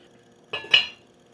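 A lid goes onto a pot of potato soup with two quick metallic clinks, close and clear, the second ringing slightly longer, alone in a quiet kitchen.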